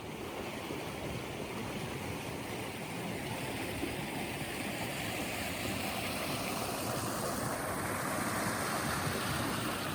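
Flash flood water rushes down Agave Arroyo in a steady, dense roar of churning flow that stays constant and unbroken from start to finish, with no voices.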